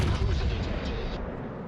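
Battleship main-gun salvos in World of Warships, a heavy booming roar that opens loud and decays into a long rumbling tail.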